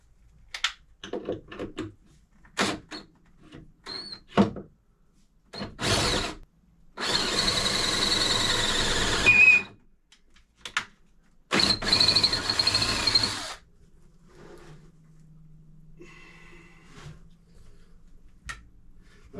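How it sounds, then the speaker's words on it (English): A power drill with a regular bit whirs in two sustained bursts, boring a hole for a boat chain plate, close and loud, separated by clicks, taps and handling noises, then a low hum. "and then I'll switch to a regular drill bit"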